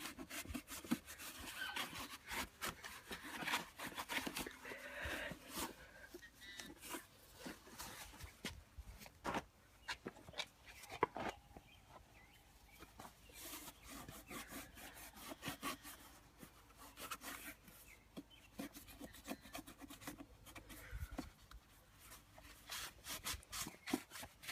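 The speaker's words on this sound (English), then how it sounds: "Then I'm going to sit here and scrub it really good." A wet air filter soaked in gas being scrubbed by hand, a close, irregular rhythm of rough rubbing and brushing strokes with occasional sharp knocks.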